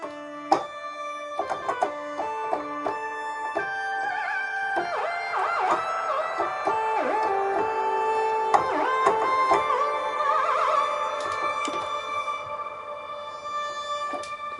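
A synthesizer lead plays a sliding, wavering melody through heavy effects, with bending pitches and a sustained, electronic tone throughout.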